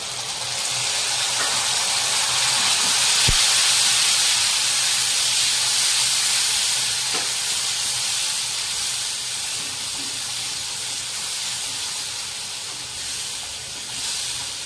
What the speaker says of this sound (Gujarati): બે ટામેટાની આપણે ગ્રેવી કરી છે એ નાખીશું.